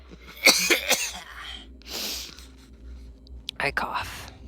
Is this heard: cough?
yes